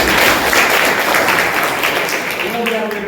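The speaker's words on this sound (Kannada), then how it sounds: "ಚಪ್ಪಾಳೆ ಹೊಡಿ." A room of food-science students at an agricultural college claps together during interview training, a loud, dense burst of applause that gradually fades as a voice begins to speak near the end.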